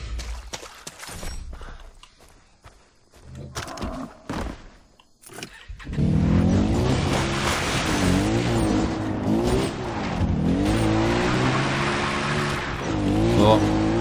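A quad bike driven in Far Cry 3. Quieter, patchy sounds come first, then a loud engine cuts in around the middle, droning steadily with its pitch rising and falling as it speeds up and slows down.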